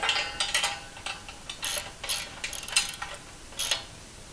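A wrench works the 19 mm bolts of a 20-ton floor shop press, giving close, quick ratcheting clicks and metallic ticks in short uneven bursts over a soft background hiss.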